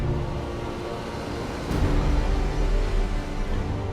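Warship engines in the Gothic Armada space game, a steady low rumbling drone that swells louder about halfway through and holds there, with no voices.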